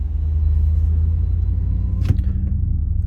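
A car idles and pulls away with a steady low engine rumble, holding even and fairly close, with a brief clunk partway through.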